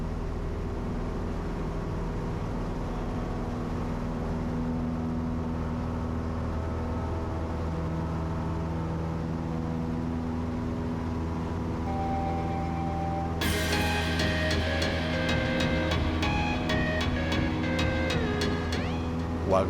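A Cessna 172 light aircraft's engine drones steadily during takeoff on a flight from Innsbruck to Venice, a constant loud cockpit roar, with bright tones and clicks joining late in the passage.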